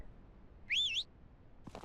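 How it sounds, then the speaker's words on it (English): A single rising-and-falling whistle calls animals on a ranch in a ranch sim video game, clear and close in an otherwise quiet scene, with a faint soft bump just after. "To get these guys, you gotta whistle at them with H."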